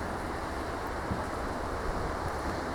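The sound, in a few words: ocean waves at the beach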